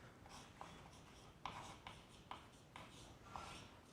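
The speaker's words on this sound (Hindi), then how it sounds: "तो देखो परिभाषा लिखता हूँ" Chalk or pen writing out a physics definition by hand, quiet scratchy strokes in short bursts with small taps between them and no talking.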